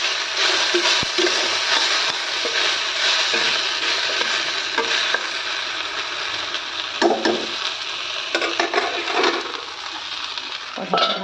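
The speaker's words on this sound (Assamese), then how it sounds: "আলু ভাজি মোৰ বহাই দিলোঁ" Potatoes frying in a pan on a home stove, a continuous close sizzle broken by occasional spoon scrapes and clinks against the metal.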